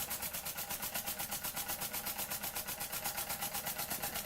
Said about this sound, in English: I'm just tapping into the boiler itself to provide the steam to run the engine.